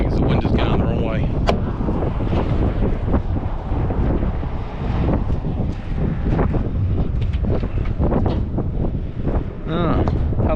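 Wind buffets the microphone outdoors on a road delivery run in the Pilbara, Western Australia, a loud continuous rumble that lasts the whole stretch, with bursts of talk or voice-like sounds mixed into it.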